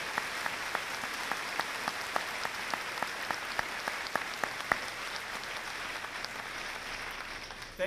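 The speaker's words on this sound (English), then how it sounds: "Please join me in a round of applause." Scattered applause at an evening graduation ceremony, a modest audience clapping with distinct individual claps that thin out and fade toward the end, fairly quiet and distant, with no talk.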